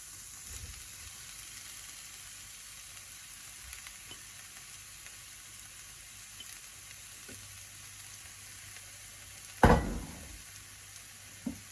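Prawns and noodles stir-fried for pad thai give a faint, low, even sizzle that runs throughout, broken once near the end by a sharp clatter of a utensil or pan, with no talking.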